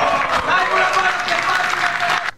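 A crowd applauds after a round in a Filipino FlipTop rap battle between J-King and Fangs, with dense, sustained clapping and cheering at fairly close range that cuts off sharply at the end.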